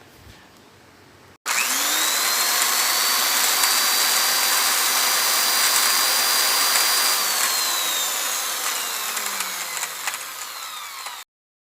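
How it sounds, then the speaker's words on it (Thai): A power tool cuts an opening in an old metal tin, starting abruptly and running as a loud, continuous high whine and grinding for about ten seconds before stopping, with no speech. "เราจะทำการเจาะช่องด้านล่างนะครับ เพื่อใส่ช่องปิ้งย่างนะครับ"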